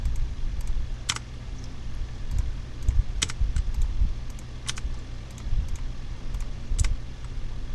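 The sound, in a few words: pressing left key on computer keyboard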